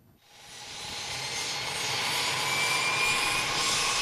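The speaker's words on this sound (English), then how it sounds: "a B-36 TC Bonanza with a 500 horsepower Pratt & Whitney PT6" A Beechcraft B-36TC Bonanza converted to a turboprop with a 500 horsepower Pratt & Whitney PT6 engine, a steady broad turbine roar and whine that swells within the first half second and holds loud and continuous, with no talking.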